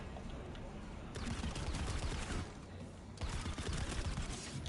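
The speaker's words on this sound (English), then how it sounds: "And I hate that suppressed gunfire that the NC has." Suppressed NC faction gunfire in the Planetside 2 video game, dense bursts of muffled shots coming in two sustained volleys with short pauses between, over a busy battle din.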